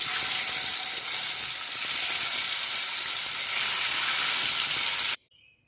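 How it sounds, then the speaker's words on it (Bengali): Loud, even sizzle of pomfret fish frying in oil, crackling steadily for about five seconds before cutting off abruptly into near silence. "সবগুলো মাছ আমি ভেজে নিয়েছি"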